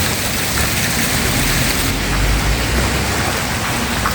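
Rain falls steadily on a Saturday evening in Windsor, England, near a riverside fountain, making a constant close hiss with no pauses or voices.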